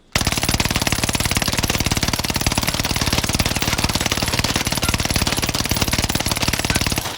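An MG42 machine gun in Warzone Pacific fires one long unbroken burst, a loud, rapid, evenly spaced stream of shots lasting several seconds.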